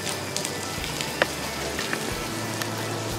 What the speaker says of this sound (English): it is raining this morning, and the Ozarks in Missouri needed rain.